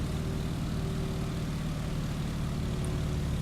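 Propeller aircraft engine in the Microsoft Flight video game, pulled back to 1900 RPM at cruise throttle, giving a steady, loud, low droning hum with a faint tonal whine, continuous and unchanging, with no voices.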